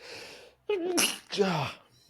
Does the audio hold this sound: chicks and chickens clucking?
no